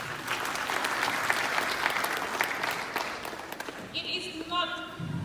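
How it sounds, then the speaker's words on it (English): An audience applauds the staff of Fajara Skills Development Center at a 2021 graduation ceremony. Steady, dense clapping fills most of the clip before fading, with a few tonal sounds near the end. "Please give a round of applause to Fajara Skills Development Center and its staff."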